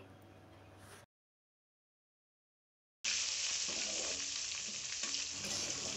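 Chana dal, cumin and dried red chillies frying in hot oil in a large pot for a three-kilo batch of pulihora, a loud dense sizzle with stirring that resumes after a two-second gap of silence.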